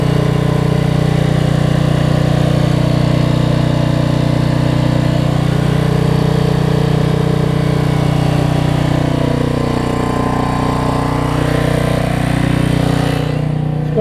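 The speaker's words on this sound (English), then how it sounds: "Well, I moved the generator." A Generac portable generator runs steadily and loudly nearby during windy weather after a power outage, its engine hum continuous and unchanging throughout.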